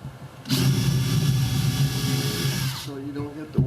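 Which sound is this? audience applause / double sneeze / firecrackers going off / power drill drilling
power drill drilling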